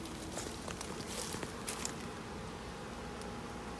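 Honey bees hum in a steady, dense drone around an open hive during an urban beekeeping inspection, with scattered faint rustles and taps from handling the frames.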